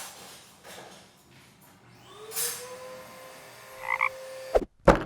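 Frogs croak in an Australian setting, a few low calls rising out of a faint background before two sharp, louder croaks near the end; no voices.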